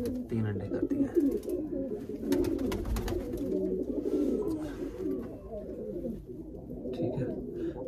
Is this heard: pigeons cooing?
yes